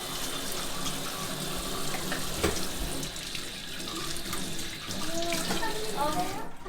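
Hands rinsed under a running water tap at a household sink, a steady broadband gush of water continuing throughout, close and fairly loud, with faint voices and small clinks in the background.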